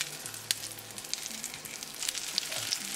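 Eggplant (brinjal) slices pan frying in hot oil, a steady close sizzle with occasional sharp pops and spatters, alone with no voices.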